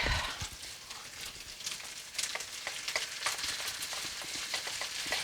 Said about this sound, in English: I'm cooking this on a medium-high right now to get the bacon all going and caramelizing the onions